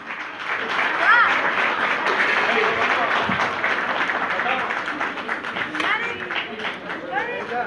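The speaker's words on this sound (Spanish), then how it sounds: "Fuerte el aplauso para Sebastián Gómez de Bella Unión." Sustained applause from a crowd at a song festival final fills the space, steady and fairly loud, with a few whistles and cheers mixed in.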